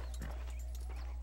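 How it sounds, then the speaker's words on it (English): A horse in the Western video game Red Dead Redemption gives a brief, quiet snort and stamps as it is hitched, over a low steady game hum. "Hitch my horse."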